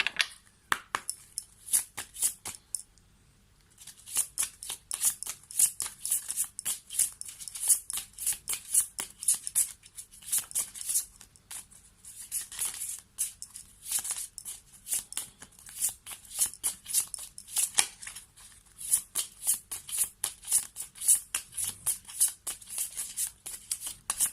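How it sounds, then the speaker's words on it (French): Cards are shuffled and drawn one by one for a tarot-style reading, giving long stretches of crisp, close riffling and snapping card flicks in quick irregular bursts, with only brief pauses. "on va prendre 3 dernières cartes pour voir si ça veut sortir dans ce petit jeu"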